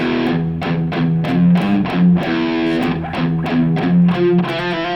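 A distorted electric guitar plays a chugging riff with a quick trilled flourish in the middle, loud and up close, no voices.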